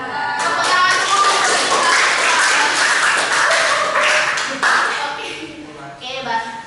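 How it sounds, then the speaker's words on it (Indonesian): A classroom of students claps together during a microteaching lesson, loud, close, continuous clapping that thins out toward the end, with children's voices mixed in. "Tepuk tangan dulu."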